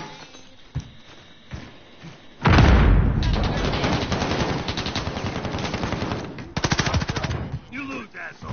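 Bursts of automatic assault rifle fire in the video game Modern Warfare, loud and sustained with rapid rhythmic shots, a short pause, then another fast burst near the end.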